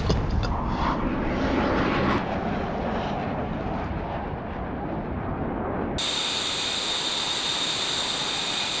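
A steady roaring jet engine from an F-18 Hornet in a dive on a bombing run in a flight combat video game, loud and continuous, with a sharp change to a thinner hissing tone near the end, no speech.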